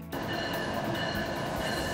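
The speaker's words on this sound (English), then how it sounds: "Trains roll through Davis daily with cyclists and pedestrians crossing when they can." A train rolls along railroad tracks through Davis, California, near Olive Drive, giving a steady, continuous rumble and rushing noise at close range with no voices.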